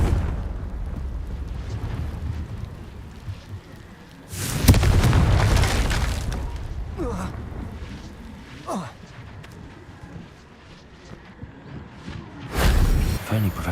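Confringo spell explosions in Hogwarts Legacy on PS5: a loud, rumbling boom partway through that slowly fades, then a second sharp blast near the end, over quieter game ambience.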